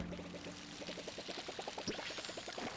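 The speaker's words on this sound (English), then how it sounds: "Do I not have to water them?" Cypress trees being watered in the video game Palia, a steady trickling pour of water running for a few seconds with a faint rhythmic bubbling pattern, alone without talk.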